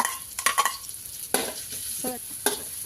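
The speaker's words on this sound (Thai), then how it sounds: "ผัดกะเพรา ผัดแล้วนะคะกำลังผัดนะคะ" Squid stir-fried with holy basil in a pan, with the scrape of a spatula and sizzling in short bursts, some sharp metallic strokes against the pan, close and fairly loud.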